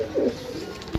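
A pigeon gives a single low, throaty coo close by, brief and clear over faint ambient noise from a pigeon loft in Sarai Alamgir, Gujrat.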